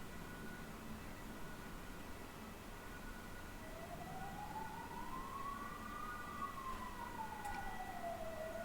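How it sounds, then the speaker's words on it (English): Distant ambulance siren passing outside, a single faint wailing tone rising and then falling as it goes by over a steady low background hum, with no talk over it. "lot of ambulances here."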